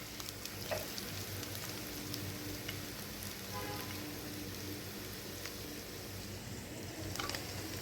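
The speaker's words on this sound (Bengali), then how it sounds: "তো এখানে রসুন, পেঁয়াজ, কাঁচামরিচ, শুকনা মরিচ দিয়ে একটু ভেজে নিচ্ছি।" Garlic, onion, green chilies and dried chilies fry in oil for a spinach and hilsa fish-bone dish, giving a steady, moderately quiet sizzle with light crackles and a few utensil clicks throughout, and no talking.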